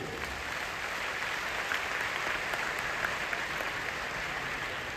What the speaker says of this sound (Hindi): तो गैनोडर्मा के नाम पर कैसा ताली होनी चाहिए?